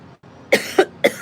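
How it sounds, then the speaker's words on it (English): A person coughs three times in quick succession, close and sharp, after a brief quiet moment with no talking. "I think about it and I start coughing"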